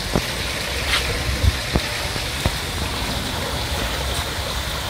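Garden fish pond water feature at a single-storey house, giving a steady close trickle and splash like a mountain stream, with a few small drips and knocks over the continuous flow.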